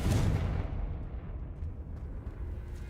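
Confringo fire blast spell from Hogwarts Legacy bursts with a loud, close explosion at the start, then a rumbling, crackling tail trails off over the next few seconds.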